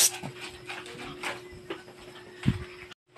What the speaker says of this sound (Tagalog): Yung mga aso.